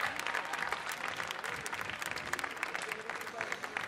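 An audience at the Coffee and Good Spirit 2016 French championship applauds sixth place, a continuous crackle of many hands clapping, quiet and steady throughout.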